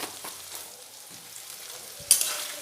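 Ground cumin, coriander and chilli powder fry in hot oil for a vegetarian chana masala, giving a steady soft sizzle with light stirring and a brief louder spatter near the end.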